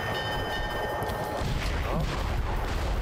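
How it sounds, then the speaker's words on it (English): Loud, dense rumbling video game explosions and booming crashes from Army Men: Sarge's Heroes 2 fill the whole stretch, with a thin high electronic whine fading out partway through. "Explosions and excitement!"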